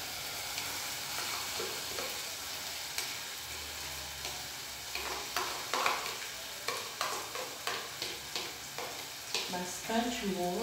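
Tomato extract goes into a sizzling pan for gnocchi sauce, with a faint frying hiss and a series of rhythmic stirring scrapes and taps, fairly quiet and close.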